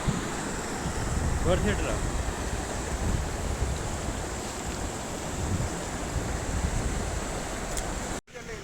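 Rushing water roars steadily at the base of the Sissu waterfall, a loud broadband wash mixed with wind buffeting the microphone, while a voice speaks briefly over it.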